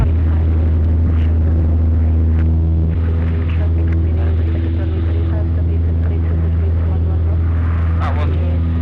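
Light aircraft engine at high power during circuit training at Rand Airport, a loud steady droning rumble with strong low harmonics filling the cabin, a voice speaking over it.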